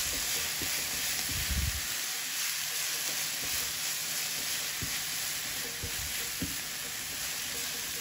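Onion fried in a pan over low heat with a small spoon of salt: a steady close sizzle runs throughout, with a few soft stirring thumps and scrapes near the start and middle.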